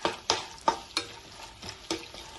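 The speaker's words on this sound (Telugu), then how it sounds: "ఇప్పుడు అవి కూడా ఫ్రై అవుతాయి, పచ్చిమిర్చితో పాటు ఫ్రై అవుతాయి అన్నమాట" Peanuts frying with green chillies in a pan, a few sharp stirring scrapes and clatters spaced about half a second apart over a soft sizzle.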